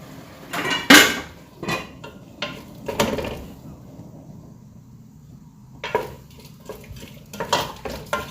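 Oatmeal chicken soup with tomatoes, cumin and dried lemon stirred in a pot, a spoon clanking and scraping in scattered close knocks with a quiet gap in the middle.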